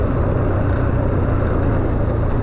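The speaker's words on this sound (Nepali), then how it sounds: "मेरो बाइक चाहिँ के भएको आज कुदेकै छैन क्या फेरि" A motorcycle engine drones steadily and loudly up close, a dense rough rumble with little variation, struggling and sluggish, with no voices.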